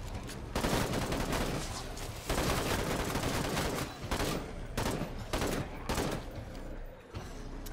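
Rapid bursts of gunfire in State of Decay 2, dense loud volleys repeating in clusters with brief gaps, close and continuous across the clip.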